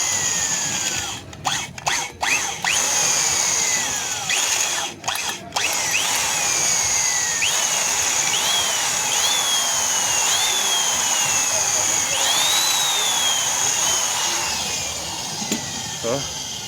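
A power drill fitted with a 6.5 mm bit bores out a stripped bolt hole in an engine. It whines steadily with repeated short bursts and pauses, and a voice talks over it.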